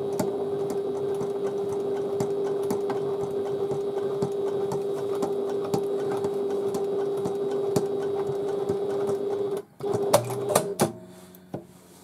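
A sewing machine fitted with a zipper foot stitches a domed handbag, running in a steady fast whirring hum for about ten seconds, then stopping with a few clicks and short bursts.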